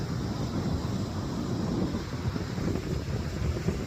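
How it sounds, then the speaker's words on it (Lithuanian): A strong wind roars steadily on an Icelandic beach, buffeting the microphone as a loud, unbroken rumble for the whole stretch. "O, koks vėjas."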